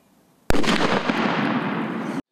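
A firecracker held in the hard plastic hand of a mannequin goes off with one sharp, loud bang, then a crackling burst that lasts under two seconds before cutting to silence.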